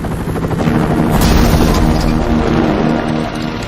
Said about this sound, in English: Pixie's inside that helicopter.